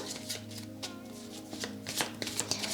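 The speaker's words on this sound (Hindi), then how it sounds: "तो हम सबसे पहले आपके कार्ड शफल करेंगे" Tarot cards are shuffled in the hands during a card reading, giving a quick run of soft riffling flicks and taps over a low steady background hum, close and fairly quiet.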